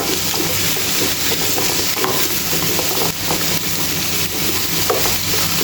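Squash sautéing in a pan, a close, continuous sizzle broken by scraping stirs and occasional soft knocks.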